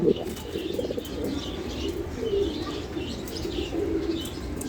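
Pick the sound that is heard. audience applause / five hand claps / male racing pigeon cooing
male racing pigeon cooing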